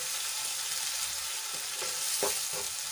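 Onions sauté in hot oil, giving a steady dense sizzle throughout, with a few soft stirring scrapes of a spoon against the pan toward the end.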